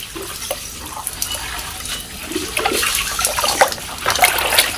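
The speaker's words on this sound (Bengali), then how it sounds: "গায়ে জল ঢালো, গায়ে জল ঢালো" Water is poured in repeated splashing gushes, close by and growing louder toward the end, with no talking over it.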